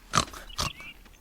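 Two short pig grunts close by, separated by a brief pause, with faint background noise and no talking.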